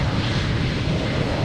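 A fixed-wing airplane at Lisbon Airport, cleared for takeoff, roars with a loud, steady broadband engine rumble filling the whole moment, close and continuous with no voices.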